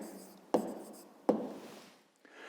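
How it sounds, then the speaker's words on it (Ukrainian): A pen writing a math answer on paper, soft close scratching strokes with two sharp taps or clicks between them, fairly quiet, with no voices. "Отже, пишемо відповідь."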